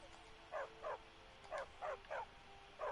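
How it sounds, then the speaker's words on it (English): Dog barking in a video game, six short yaps in a steady rhythm over a faint continuous hum, fairly quiet and with no talk over it. "Oh, there's a dog."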